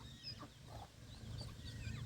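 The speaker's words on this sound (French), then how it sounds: "Vous voyez, le langage du canard colvert." A mallard duck mother calls to her ducklings outdoors with soft quacks and faint high peeps, quiet and somewhat distant over low background noise.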